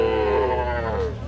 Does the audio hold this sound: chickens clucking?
no